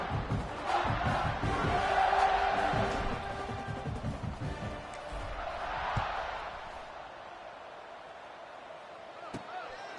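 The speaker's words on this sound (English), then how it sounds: "this crowd is feeling themselves after that last drive" Stadium crowd roaring and cheering in a College Football 26 game, a broad wash of noise that swells early, eases, then rises again before fading, with a commentator talking over it.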